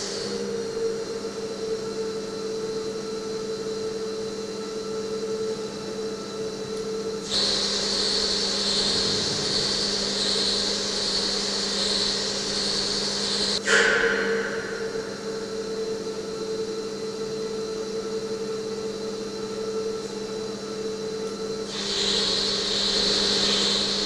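Steady mechanical hum of a lathe turning a metal workpiece down to 15.88 mm diameter for an M16 thread, with a higher whine rising and falling as the cut starts and stops.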